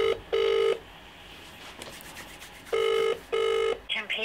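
A telephone ringback tone sounds while a call to HMP Peterborough prison waits to connect: loud, steady double-burst rings, one burst near the start and a paired burst later, with a quiet line hiss between them.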